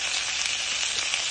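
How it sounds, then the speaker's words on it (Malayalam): Tomatoes and onions fry in a pan for sambar, giving a steady, close, bright sizzle throughout with no voices. "നമുക്ക് തക്കാളി ഇട്ട് കൊടുക്കാം."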